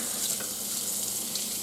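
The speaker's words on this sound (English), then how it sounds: "Maybe just wash the pan down a little." Tap water runs steadily into a sink while a pan used for smoking meat is rinsed, a continuous close hiss and splash with no pauses.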